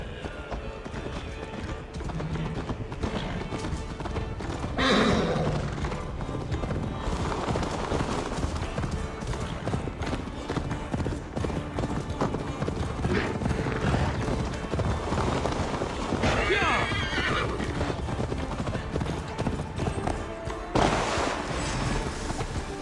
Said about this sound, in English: Your horse is slow, and her rider's drunk.